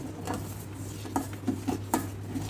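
Milk in a pan stirred steadily to thicken it for milk cake, a spoon scraping and clinking softly against the metal at irregular moments over a constant low hum.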